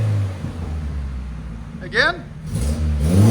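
A 1989 Geo Tracker with a 1.6L engine and a resonator muffler idles and then revs once in a short, poppy burst. The exhaust is close and fairly loud, with brief talk over the idle.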